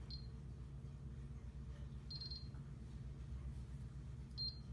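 A Videofied alarm system keypad beeps while arming: three short, high electronic beeps spaced a couple of seconds apart, faint above a steady low hum.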